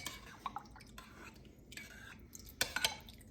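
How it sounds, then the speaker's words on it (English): Spoon stirring leftover pot pie filling in a pot, quiet scraping and soft wet clinks with a few brighter metallic taps near the end, close and faint. "we're gonna give it a nice stir"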